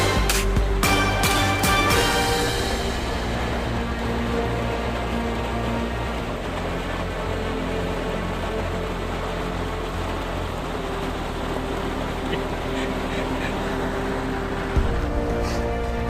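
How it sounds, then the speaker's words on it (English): Heavy rain pours down in Missouri as a steady, loud broadband hiss, with a few sharper knocks at the very start and no talk. "There it is, pouring down rain."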